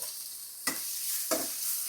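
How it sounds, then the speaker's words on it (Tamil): Chopped onions frying in oil in a pan for wheat-flour noodles, a steady high sizzle broken by two short scraping stirs, close and fairly quiet. "வெங்காயத்தை ஆட் பண்ணிட்டோம்."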